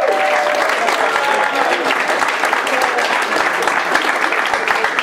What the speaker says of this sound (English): round of applause for my mom